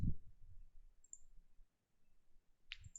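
Two separate computer mouse clicks, one near the start and one near the end, while a setup dialog for Azure DevOps load balancing is confirmed; quiet, close and sharp against a nearly silent background.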